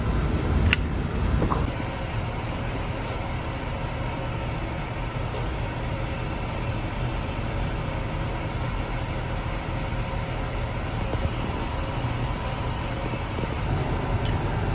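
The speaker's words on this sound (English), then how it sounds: "We'll go after it with some rubber wheels and some polishing" A bezel-set ring is polished with rotary rubber wheels, making a steady, moderately faint whirring hum that runs unbroken, with a few light ticks and no talking.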